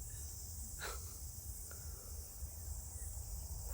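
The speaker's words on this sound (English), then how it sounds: "Wow, the crickets are really busy." Crickets chirping in a continuous high-pitched drone, with a soft breath or sniff near the start and faint background hiss.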